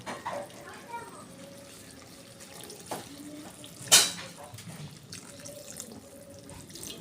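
Water is poured into a pan of sautéed sweet potato leaves with soy sauce and sardines. A brief splash stands out among quiet kitchen sounds, and some speech is heard.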